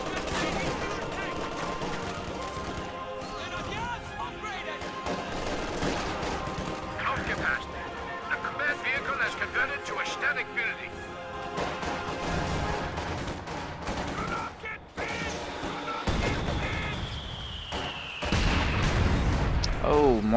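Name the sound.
mortar shells landing and machine gun fire in a strategy video game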